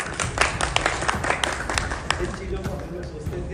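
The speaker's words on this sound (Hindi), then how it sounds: "आदरणीय दुष्यंत परिहार जी के लिए जोरदार ताली बजाइए।" An audience at a public cooperative and rural development gathering claps in a dense burst of many hands, strong at first and then thinning, with a background murmur of voices.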